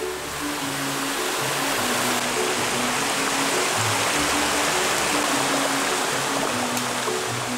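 A mountain valley stream at Jogyeongdong on Bangtaesan runs through dense primeval forest, a steady, full rushing of water heard close and unbroken, with a low tonal hum underneath and no voices.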